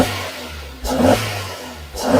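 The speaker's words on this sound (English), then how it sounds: "this is how the car sounds on the stock air filter" A Suzuki Jimny engine fitted with its stock air filter idles with a low hum, then revs in two short blips, each a quick rise and fall, heard close up with no talk.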